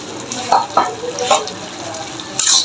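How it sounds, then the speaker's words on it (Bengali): Ground spices are stirred into gourd curry frying in a pan: a steady sizzle broken by several distinct scraping strokes of a spoon at irregular intervals, close and fairly loud. "ভালো করে মিশিয়ে নিব"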